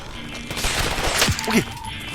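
Video game gunfire lands a headshot during a survival match in a wasteland, with a burst of sharp cracks and a short clatter over a steady background hum, fairly loud and close.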